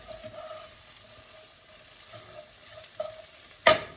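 Bacon hash frying in a pan, a faint steady sizzle under a few scraping stirs, ending with a sharp clack of the spoon against the pan.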